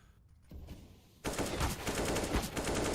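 AK rifle fire in a Counter-Strike match, starting after a quieter stretch and turning into a loud, steady string of rapid shots that keeps going to the end, with no voices over it.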